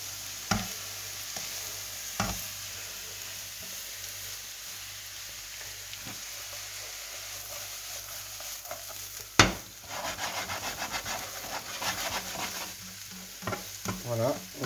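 Leeks sautéing in a pan with carrots for a fondue, a soft steady sizzle with occasional sharp utensil knocks, then a busier stretch of stirring and scraping that grows louder toward the end.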